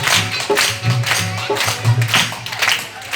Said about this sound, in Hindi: एक बार माँ के लिए जोरदार ताली बजाइए।